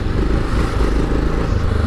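Yamaha XT660 motorcycle riding along with a steady, loud engine drone and heavy wind rumble, a continuous close-up roar with no clear talk.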